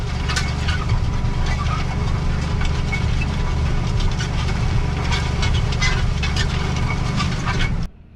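A heavy machine working ground is jammed into gear and left running, its engine producing a steady, loud low rumble with rattling and clanking mixed in. The sound holds evenly for the full stretch, then cuts off abruptly at the end.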